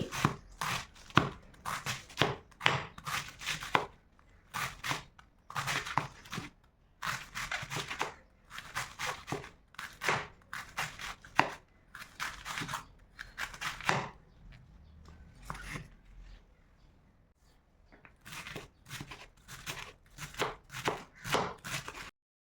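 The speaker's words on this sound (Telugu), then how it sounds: "ముందుగా క్యాబేజీ తీసుకొని చిన్న చిన్న ముక్కలుగా కట్ చేసుకోవాలి ఎంత వీలైతే అంత చిన్నగా కట్ చేసుకోవాలి" Knife repeatedly chopping cabbage into small pieces for cabbage Manchurian, a fast run of sharp, close taps on a board in bursts with a short pause midway, no talking.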